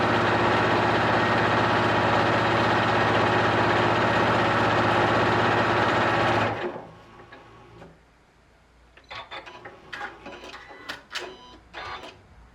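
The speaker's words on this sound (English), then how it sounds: "Beautiful stitching right there." Janome Continental M6 sewing machine stitching at speed, a loud, close, steady mechanical whir and rapid clatter that stops abruptly, followed by a few light clicks and handling taps.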